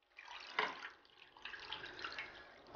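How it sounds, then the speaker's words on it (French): Filtered broth is poured over cooked beef tongue, a steady liquid splashing and trickling stream close by, with a brief louder splash near the start and no talk. "j'en ai filtré une petite partie pour pouvoir arroser ma langue et la garder au chaud"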